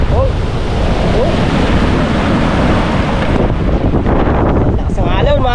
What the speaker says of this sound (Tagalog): Lakas ng alon mga kaw.